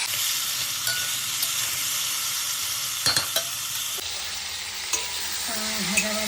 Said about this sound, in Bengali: দিয়ে দেবো হলুদ, ভালো করে তাকে ভেজে নেব।